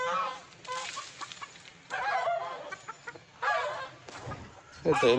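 A hen clucks loudly in repeated bursts separated by short pauses, ending with a louder, sharper squawk nearby.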